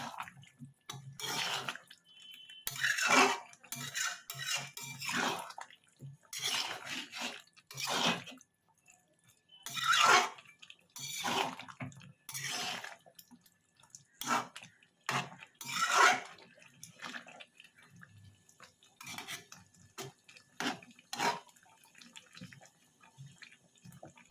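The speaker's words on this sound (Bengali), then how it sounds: "বেগুনটা দিয়ে ভালো করে নাড়িয়ে দেবো।" A spoon stirs chopped eggplant into a fish curry in a pan, making irregular wet scrapes and clinks that come in bursts with quiet gaps between them, faint and close.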